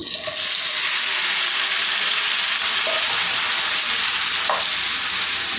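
Green chillies fry in hot oil in a pan, a loud continuous hiss and crackle that stays even from start to finish.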